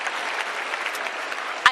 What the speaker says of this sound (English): A round of applause to those few who asked questions.